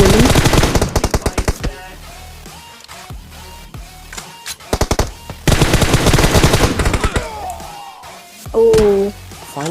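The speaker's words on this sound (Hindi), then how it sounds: "देखो मारी गोली।" Gunfire in the mobile battle royale game PUBG Mobile comes as rapid automatic bursts, several loud volleys separated by quieter gaps, with faint game sounds between them.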